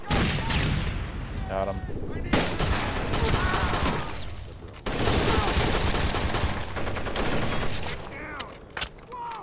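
Dense rapid gunfire and explosions from an online shooter game, loud and continuous, with players talking over the bursts.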